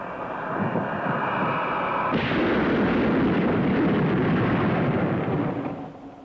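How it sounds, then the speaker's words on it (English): Loud, continuous jet roar that suddenly thickens into a deep rumbling blast partway through as the jet breaks the sound barrier, then sustains and fades slightly at the end. "The sound barrier has been broken."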